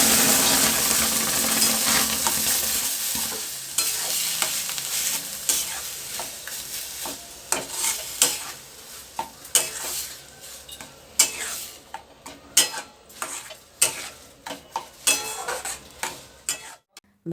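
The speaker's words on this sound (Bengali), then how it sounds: "ভাজা পেঁয়াজের সাথে বাঁধাকপির পেস্টটা ভালো করে মিশিয়ে নিতে হবে।" Cabbage paste is stirred with fried onions in a pan, a spatula scraping and clacking against the metal in repeated strokes over a soft sizzle that fades as the mixing continues.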